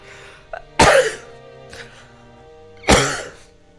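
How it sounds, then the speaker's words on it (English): A man streaming a game coughs twice, each a short, sharp, close burst about two seconds apart, with quiet room tone between and a softer throat sound in the gap. "Sorry I had to cough a bit."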